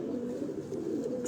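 Pigeons on a rooftop in Lahore, Pakistan coo softly in a low, continuous murmur, steady throughout the moment and without any voices.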